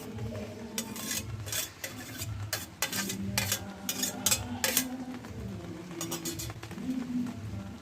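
Grated coconut being stirred with jaggery in a wok for Bengali coconut sweets gives a close, steady run of scraping and rubbing strokes, with a few sharper clinks of utensil against the pan and no talk.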